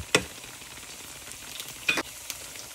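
Pieces fry in oil in a pan with a low, steady sizzle, broken by two sharp scraping stirs and a faint later tap.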